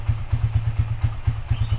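A 2010 Minerva R150 VX motorcycle with a PE 28 carburetor runs just after float adjustment, its cold engine giving a steady, rapid low thumping idle close by, with no talking.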